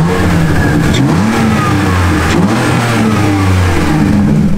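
Car engine fitted with a budget homemade cold air intake, revving up and down in rising and falling sweeps, loud and close with a continuous mid-pitched roar.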